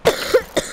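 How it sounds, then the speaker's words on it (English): Three short, sharp coughs close to the microphone, spaced out over under a second, from someone who is ill while playing Minecraft. "Sorry, guys, about coughing."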